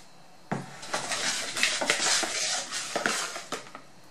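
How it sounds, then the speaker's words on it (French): Vegan chocolate muffin batter stirred in a bowl, a utensil scraping and clinking against the sides in a steady run of close, moderately loud strokes with no talking. "Et on mélange les deux ensemble."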